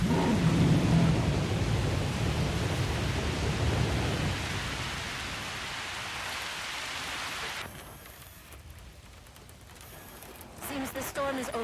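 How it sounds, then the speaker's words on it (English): Thunderstorm in the video game Jurassic World: Evolution, a loud steady wash of heavy rain with low thunder rumble that fades after several seconds, leaving a quieter tail with faint clicks. "Seems the storm is over."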